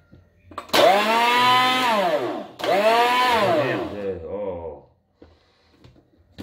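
A kitchen mixer blends strawberries with casein protein powder in two loud whirring bursts, its motor pitch sagging and rising under load, then spinning down into quiet.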